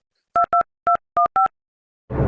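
A phone number is dialed as five short, evenly spaced keypad beeps in a quiet room, followed by a burst of rough noise as the line connects.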